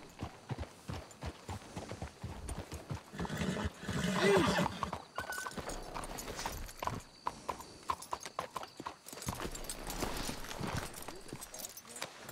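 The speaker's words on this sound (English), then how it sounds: "Let's hitch your horses up ahead" Horses in Red Dead Redemption 2 walk with steady hoof clip-clops and let out a neigh partway through, mixed with game ambience and spoken dialogue.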